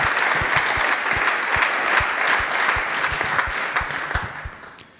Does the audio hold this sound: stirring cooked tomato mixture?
no